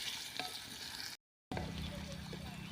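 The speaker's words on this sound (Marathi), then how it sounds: "आता आपण जो बारीक कट केलेला कांदा आहे तो टाकून घेऊया तर गुलाबी रंग येईपर्यंत आपल्याला हा कांदा छानपैकी परतून घ्यायचा आहे" Finely chopped onion fries in a kadai with a constant crackling sizzle and soft stirring scrapes, cut by a brief silent gap partway through.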